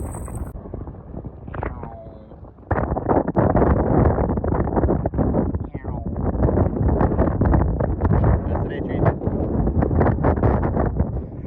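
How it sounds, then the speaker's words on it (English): Strong wind roars and buffets the microphone on a desert road while riding a BMX bike from San Diego toward Phoenix, a loud continuous rushing blast that swells sharply after a quieter start and never lets up. "And it's really windy, but it's working in our direction."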